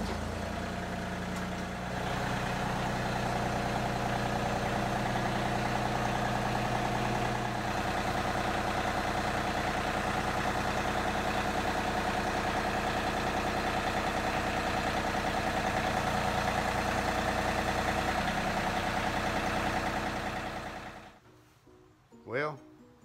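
A tractor engine idles in a steady, close, continuous drone while a Harbor Freight quick hitch is used to pick up a ballast box; the engine cuts off near the end, leaving a brief quiet with a small thump.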